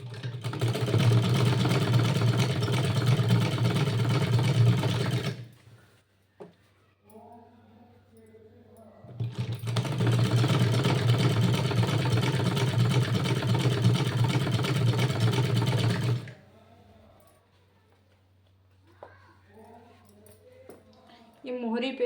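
A sewing machine stitching a salwar runs in two long, steady bursts of fast mechanical whirring and needle clatter, close and loud, separated by quieter pauses where someone talks.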